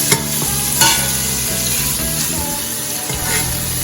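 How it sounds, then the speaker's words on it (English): A smoked turkey neck sizzles and fries in the bottom of a pot, a steady loud crackle with occasional scraping stirs and clinks throughout. "I'm gonna get this turkey neck brown just a little bit to get like some of that flavor at the bottom of the pot"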